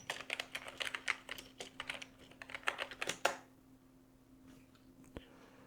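Rapid typing on a computer keyboard, a quick irregular run of close key clicks that stops after about three seconds and leaves a faint hum with one last isolated click.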